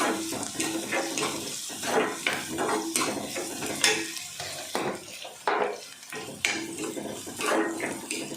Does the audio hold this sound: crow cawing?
no